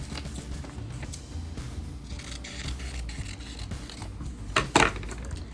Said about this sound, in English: I'm just trimming my picture.